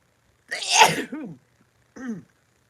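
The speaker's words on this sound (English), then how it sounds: "Well, I'm trying not to sneeze." A single loud, close sneeze with a sharp explosive burst, followed by a short breath and a brief vocal sound a moment later.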